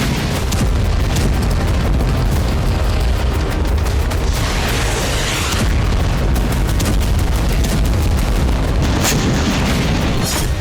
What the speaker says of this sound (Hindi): जहां रूस ने अंडरग्राउंड बंकर में बम गिराकर 3 यूक्रेनी सैनिकों को खत्म कर दिया